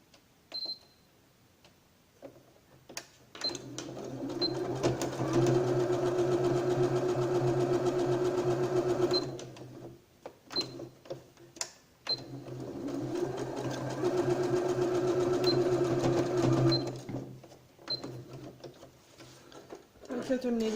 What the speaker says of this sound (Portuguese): eu vou costurar em cima do risco aqui. Costura reta também.